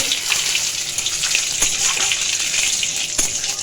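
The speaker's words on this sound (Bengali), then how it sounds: "এবার তেলের মধ্যে ওই তেলেই আমি দিয়ে দিচ্ছি গোটা জিরে, দুটো তেজপাতা ফোড়ন দিয়ে দিলাম।" Whole cumin seeds and two bay leaves sizzle in hot oil for a Bengali potato-egg pakora gravy, a steady bright crackling hiss with small pops throughout, close and fairly loud, no talking.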